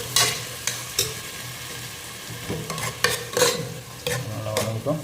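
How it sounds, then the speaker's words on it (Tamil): Tomatoes frying in oil in a pan while making milk fish curry, with a steady sizzle broken by several sharp scraping stirs of a spoon against the pan. "ஒரு 5 நிமிஷம் தக்காளி கொஞ்சம் எண்ணெயில் நல்லா பிடிக்கட்டும்"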